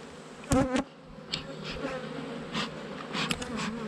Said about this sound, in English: Not sure what bees these are.